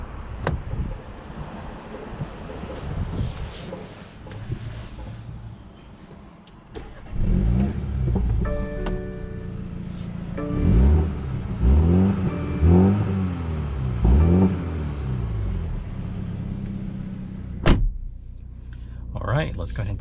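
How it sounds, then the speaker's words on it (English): A 2022 BMW X2 M35 on a test drive pulls away with its engine revving and rising in pitch through several surges, loud and close inside the cabin. "let's go ahead and take this 2022 BMW X2 M35 on a test drive. It sounds really good"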